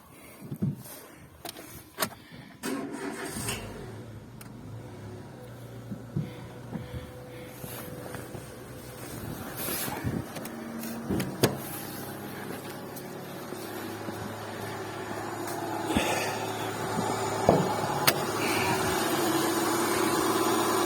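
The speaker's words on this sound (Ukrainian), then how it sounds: "Сейчас заведу, покажу вам, як працює двигун, наскільки це зможе передати телефон." A 2007 Renault Megane 2 1.6 petrol engine cranks and catches after a few clicks and clunks, then settles into a steady, low idle that continues throughout.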